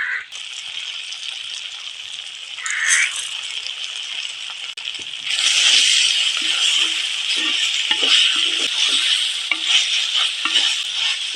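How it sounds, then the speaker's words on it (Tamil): Tomatoes with salt sizzle in a pan while being stirred and sautéed, a continuous bright frying hiss that swells partway through, broken by soft scraping stirs, with no talk. "தக்காளி நல்லா வதங்கணும். நல்லா வதங்கினா தான் நல்லா இருக்கும்."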